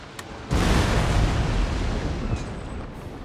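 Cannon fire from a naval battle in Napoleon: Total War, a loud booming blast that rolls into a long dense rumble of overlapping shots, close and heavy, with no talking.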